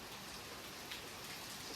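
Evening rain falls outside a cafe, a faint, steady hiss of drops on surfaces heard from a distance with no voices.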